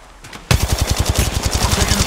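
Automatic weapon fire from the video game Apex Legends erupts after a brief quiet lead-in, a rapid, loud, evenly spaced string of shots that continues to the end.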